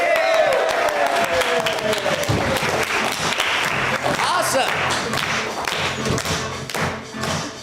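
Audience at an improv comedy show applauding and cheering as the cast takes the stage, loud dense clapping with thumps and whoops, one voice calling out briefly over the crowd.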